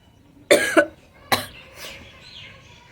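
Two sharp coughs from someone with a cold-weather chill, a quick double burst followed by a single cough, close and loud, then fading into soft breathy noise.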